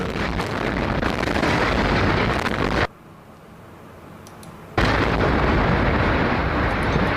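Explosions from hospitals being bombed: loud, sustained roaring blasts that cut to a brief quieter lull midway, then surge back at full strength.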